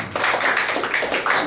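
A church congregation applauds in a brief, dense burst of clapping, steady and moderately loud for a second and a half.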